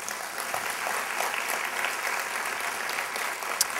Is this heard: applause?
yes